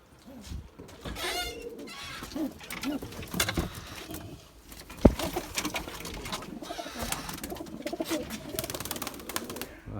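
Released tumbler pigeons coo in soft, repeated calls amid bursts of wing flapping and outdoor background noise, with one sharp clap midway.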